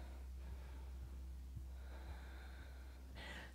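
Slow, soft breaths during a yoga class held in pigeon pose: a few faint snort-like exhales spaced about half a second apart, with a clearer, louder inhale near the end, all quiet and close.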